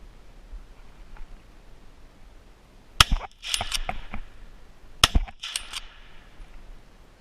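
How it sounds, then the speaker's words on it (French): Two sharp rifle shots ring out about two seconds apart at a roe buck 80 metres away during an outdoor hunt, each crack loud and followed by brief echo and rustling, with quiet field ambience between. "On commence avec le tir d'un brocard en pleine à 80 mètres qui fera carreau à la deuxième balle."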